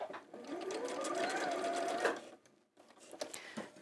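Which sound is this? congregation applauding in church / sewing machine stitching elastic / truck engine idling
sewing machine stitching elastic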